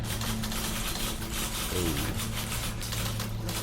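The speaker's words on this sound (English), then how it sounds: "Is that a typewriter?" Typewriter keys clatter in a rapid, dense run of clicks within The Beginner's Guide video game, set against a loud droning background, with a brief spoken exclamation.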